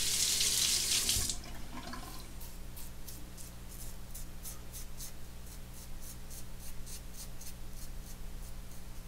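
Water runs steadily from a bathroom tap while a razor is rinsed after shaving, a loud splashing burst at first settling into a constant, close hiss of flowing water with no talk.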